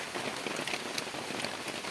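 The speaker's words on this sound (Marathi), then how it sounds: "पाऊस आहे म्हणून तर आपल्या निवाऱ्याला आलो आहे" Steady rain pours down on a farm shelter, pattering densely on a hard surface with no pauses, loud and close.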